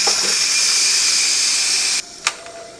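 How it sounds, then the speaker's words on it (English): Steam bursts from the release valve of a pressure cooker holding cooked quinoa, a loud, steady, close hiss lasting about two seconds before cutting off, followed by a single brief click. "This is the quinoa. So I am going to release the steam."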